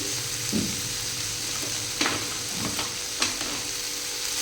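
Mint leaves hit a pan for mushroom masala, giving a low, steady frying sizzle with a few soft stirring scrapes and brief clatters spread across the clip.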